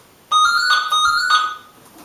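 A phone ringtone chirps in clear electronic bursts, two or three repeated trill segments of steady pitch, fairly close and alone, then fading out.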